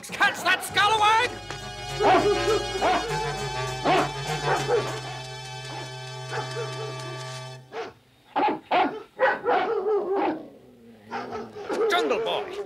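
Several cartoon dogs bark and yip in bursts over dramatic orchestral music, with a few whimpers; a voice speaks briefly near the end.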